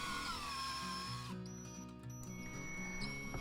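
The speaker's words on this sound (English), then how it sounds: "Drill the pilot holes." A power drill whines as it bores pilot holes in wood for a folding table top easel, a steady tonal hum that shifts pitch as the drill speeds up and slows, fairly quiet overall.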